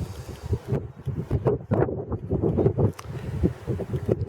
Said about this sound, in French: Désolé pour le vent, il vente s'il vous plaît.